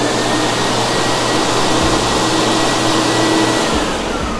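Wieland VacPro 16 industrial vacuum roaring at full power with all blowers running, a loud, constant broadband whoosh with a steady low hum, alone without talk.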